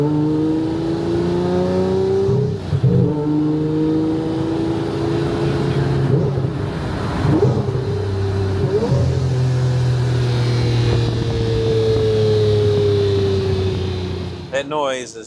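A Lamborghini Murcielago, driven with the roof off, revs and pulls hard, its loud engine note climbing and shifting through several rising sweeps, with brief gaps between gears, close and continuous.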